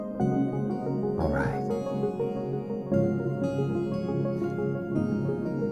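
Taste, a Kontakt sample library by Audio Ollie, plays sustained, layered chords with rich ringing harmonics, continuous and moderately loud with a few brief shifts in texture.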